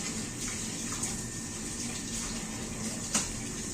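Water runs steadily from a tap into a sink, a continuous hiss with a few faint clinks of dishes.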